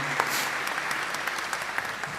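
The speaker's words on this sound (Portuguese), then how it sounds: "Uma salva de palmas e obrigado, Marilene." A crowd at a public hearing marking World Autism Awareness Day applauds in a dense, steady patter of many hands, with no one speaking.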